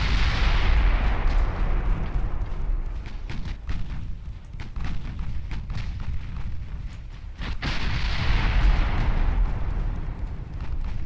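Heavy battleship gunfire and shell explosions in the naval game Ultimate Admiral Dreadnoughts, a sustained roar of booming salvos with sharp bursts near the start, middle and around seven seconds, loud and without talk.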